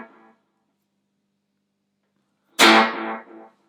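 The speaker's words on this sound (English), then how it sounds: "I just like a little bit of delay, a little bit of echo, just to give a bit of something" A loud strummed chord on an electric guitar through a practice amp with delay and echo, ringing out and decaying in repeats after a quiet pause, with a faint tail of an earlier note at the start.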